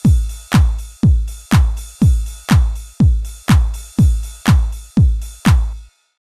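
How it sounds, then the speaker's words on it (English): A kick drum pattern thumps in a steady four-on-the-floor beat, about eleven punchy hits with a sharp clap transient landing just ahead of each, then stops. "So the clap sample starts just before the kick drum"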